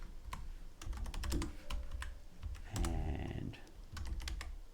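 Someone types on a computer keyboard in irregular bursts of close, crisp key clicks and thumps, with a brief spoken word at the start.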